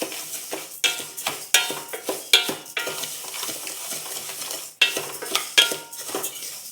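Rice being stirred and dry-roasted in a pan for akki usli, with repeated scraping and clinking of a utensil against the pan in uneven strokes, close and fairly loud, no talking.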